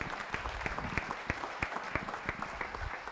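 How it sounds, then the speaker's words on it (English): A conference audience at a WordCamp in Lisbon applauding a speaker, a sparse, fairly faint scattering of distinct claps from a smallish crowd, with irregular sharp hits. "Round of applause for Dave Lockey"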